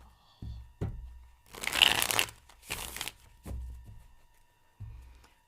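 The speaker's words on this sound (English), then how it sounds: "That feels like it needs a really good shuffle." Several bursts of riffling and crisp shuffling of playing cards, with light taps and knocks between them, close and fairly quiet.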